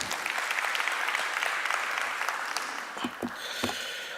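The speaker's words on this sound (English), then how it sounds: "Let's give him a round of applause for the last time." Dense applause from a seminar audience at an international fraud awareness event, steady clapping filling the room for about four seconds, with a few louder individual claps near the end.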